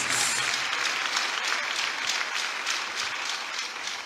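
A church congregation applauds in acclaim of Jesus, a dense, even wash of many hands clapping that holds steady throughout, fairly loud with no voices on top.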